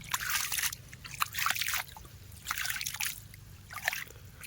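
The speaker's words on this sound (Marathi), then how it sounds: "असं पाणी पडतंय मस्त" Bore-well water trickling and dribbling from drip irrigation pipes in a chickpea field, arriving in irregular splashing bursts against a quiet outdoor background.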